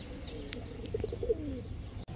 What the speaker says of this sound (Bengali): ইন্দোনেশিয়ান ক্রেপ ব্রাহ্মা একটা মাদি কবুতর।